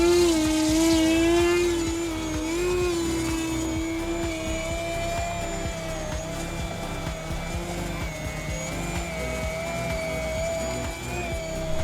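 A high, whining electric motor drone from a 1.2 m E-flite Super Decathlon RC model airplane in flight, steady pitch drifting and wavering slightly, buzzing continuously at close range, no talking.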